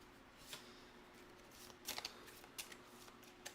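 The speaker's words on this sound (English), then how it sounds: "Let's shuffle these." A deck of board-game cards being shuffled at a table, with faint, quiet riffling clicks and brief papery bursts spread over a few seconds against low background hum.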